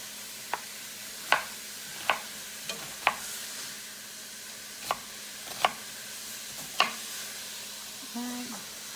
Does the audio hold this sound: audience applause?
no